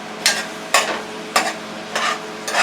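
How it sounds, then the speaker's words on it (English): Sliced apples with raisins frying in a pan give off a low, steady sizzle, with five evenly spaced scraping strokes of a spatula heard up close. "These fried apples are cooking."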